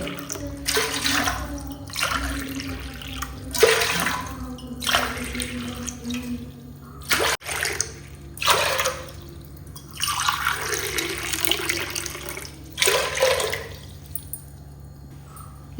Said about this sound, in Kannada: ಆರು ಗ್ಲಾಸಷ್ಟು ನೀರು ಹಾಕ್ತಾ ಇದ್ದೇನೆ